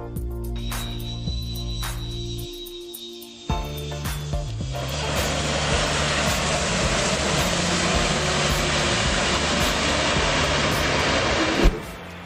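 Jet airliner engines on landing roll: after a few brief thumps, the thrust reversers open and the engine roar surges into a loud, sustained rushing blast that holds for several seconds before cutting off sharply near the end.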